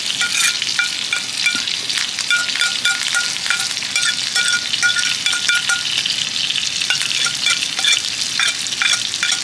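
Steak sizzles and fries steadily in a hot pan with thyme, rosemary and garlic, a close, continuous crackle with occasional stirring clinks and no talking.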